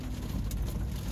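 Steady rain falling during a monsoon storm, a continuous broadband wash of drops on surfaces with faint traffic rumble beneath, heard alone without voices.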